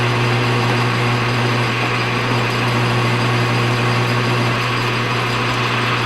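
A lathe runs steadily while turning down a grade 8 steel shock bolt for a race car, producing a constant loud motor drone with a low hum and a faint cutting hiss, no breaks.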